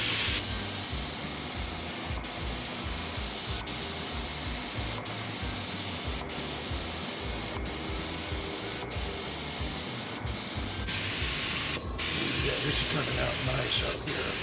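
Spray gun applying paint to an old school hot rod race car, a steady close, loud hiss running throughout with brief interruptions and a slight change in tone near the end.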